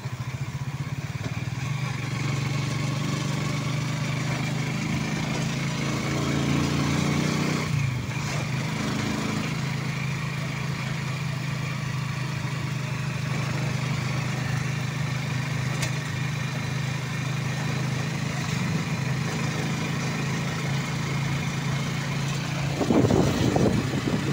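Motorcycle engines idle in Candaba, Pampanga, a steady low droning hum running throughout with small revving surges, close and loud, with brief bursts of other passing noise near the end.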